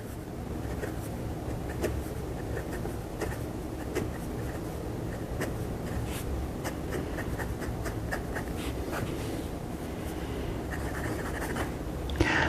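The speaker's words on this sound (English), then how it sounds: "I'm going to be quiet and let you hear as I write a few things so that you can hear how this nib has or doesn't have feedback" Moonman T1 fountain pen nib writing on paper, a faint continuous soft scratch with brief stroke ticks under a steady low room hum, no voices.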